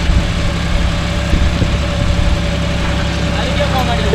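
A John Deere 5050D tractor pulling a five-tine cultivator through stony farmland runs in low gear with a loud, steady diesel rumble, while people talk over it.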